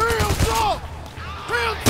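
Gunfire in the Payday: The Heist video game, a quick burst of several shots followed by more shots a moment later, loud and close, with voices present.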